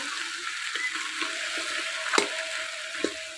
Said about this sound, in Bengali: মাছের মাথা দিয়ে একটু নাড়াচাড়া করে ভাঙে দিই